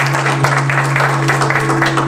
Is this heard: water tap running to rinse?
no